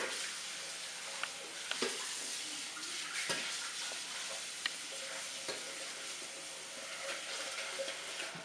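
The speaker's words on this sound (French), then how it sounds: "Je vais rincer le bol." A bowl being rinsed under running water in a home kitchen, a steady close hiss of flowing water with occasional small knocks and clinks throughout.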